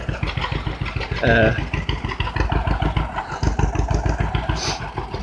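A tractor engine idles close by with a steady low, rapid chugging throb that continues throughout, with no voices over it.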